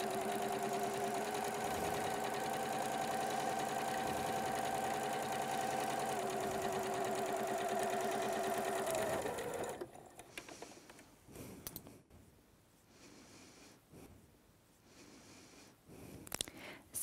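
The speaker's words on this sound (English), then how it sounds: "We're going to stitch our regular seam first, the wrong sides together" A sewing machine stitches a regular seam with the fabric's wrong sides together for a French seam. It whirs steadily and close for about nine seconds, then stops, leaving faint fabric handling.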